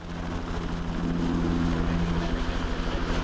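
Police helicopter circling over a manhunt for an armed man, a steady rotor drone with strong low tonal hum, loud and continuous throughout with no speech.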